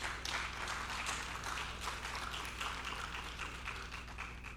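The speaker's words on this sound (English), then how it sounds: "You may clap if you wish." Audience clapping at an engineering society memorial lecture in Abuja, a steady dense patter of many hands sustained for several seconds over a low hum, moderately loud with no voices.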